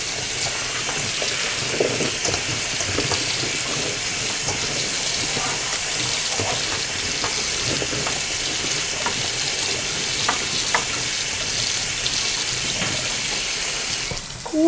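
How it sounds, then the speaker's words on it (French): Red beans rinsed under a running kitchen tap, a steady close stream of water hissing and splashing for a long stretch with small knocks of beans and pan underneath. "Donc là, je vais les rincer."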